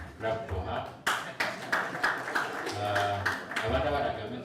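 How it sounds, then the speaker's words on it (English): Scattered clapping in a meeting room at a district health sector review in Uganda, a few sharp bursts of hands over a low hum and some voices in the background. "clap for her"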